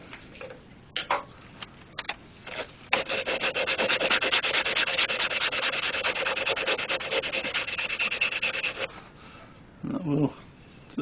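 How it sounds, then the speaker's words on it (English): Steady, close rasping of cloth-backed sandpaper worked back and forth over a turned wooden Christmas bauble, starting with a few short scrapes, then a long continuous rub of about six seconds before stopping and resuming briefly. "when you come to sanding this, you do need the material backed sandpaper"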